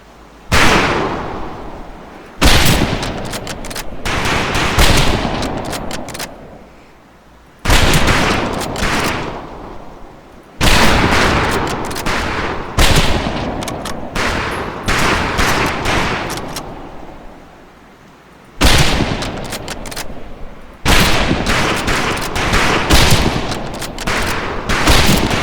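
Rifle fire at a shooting range in Medal of Honor Pacific Assault: repeated loud bursts of gunshots in clusters separated by short pauses, close and sharp, with no voices.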